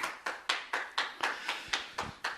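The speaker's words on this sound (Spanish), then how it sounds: "Démosle un aplauso al que vive para siempre." Rhythmic clapping from a church congregation, about two claps per second in a steady, even beat, fairly close and clear with no talk over it.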